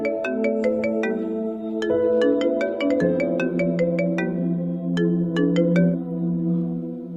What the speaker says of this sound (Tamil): இல்லம்மா, சூர்யாவுக்கு ஃபோன் பண்றேன்